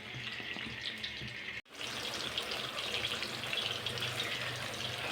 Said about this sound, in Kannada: ಮಸಾಲೆ ಹಾಕಿರೋ ಮೀನನ್ನ ಎಣ್ಣೆಲಿ ಹಾಕಿದ್ದೀನಿ.